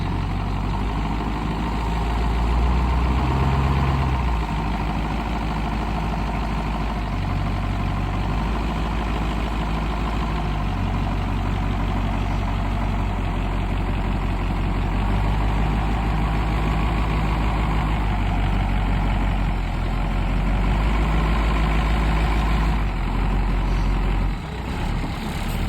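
A stationary bus engine idles steadily with a deep, low rumble, loud and close throughout, with no speech over it.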